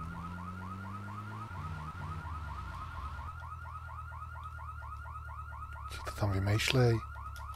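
A car alarm in the video game GTA III wails in a steady, rapidly repeating warble throughout, loud and continuous, with a brief burst of other game noise near the end and someone speaking briefly over it.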